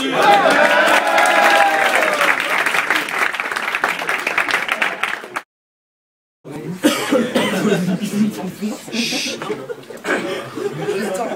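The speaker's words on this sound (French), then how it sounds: "Ouais, on l'applaudit." An audience applauds a poet at a French poetry reading, mixed with coughs and chuckles; dense clapping runs for about five seconds, cuts to silence, then resumes with scattered claps and laughter.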